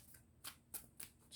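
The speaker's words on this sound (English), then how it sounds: "we're just going to shuffle" Tarot cards shuffled by hand, several quick crisp riffling bursts in an uneven rhythm, close and quiet with no voices.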